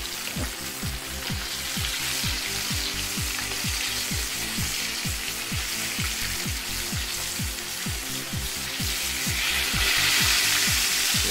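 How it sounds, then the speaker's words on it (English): Chicken fries in a frying pan for a Jamaican-style fried chicken dinner, giving a loud, continuous close-up sizzle and crackle with a faint rhythmic mechanical hum underneath and no talking. "So there we have begun to fry our chicken."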